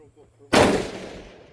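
A single sharp shot from a Zermatt Origin bolt-action rifle firing 140-grain Sierra bullets at a long-range precision match, loud and close with a decaying echo trail and no talk.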